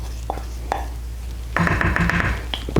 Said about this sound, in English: I'm just going to mix that in.